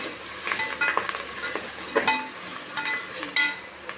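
Mushroom biryani masala sautéing in a pan, a steady close sizzle and fry with light scraping and stirring clicks throughout, no voices.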